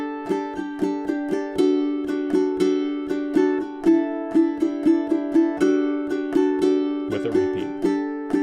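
Solo ukulele strumming a solo section, steady bright chord strums with sharp rhythmic attacks and a brief muted flurry near the end, close and clear with no talk.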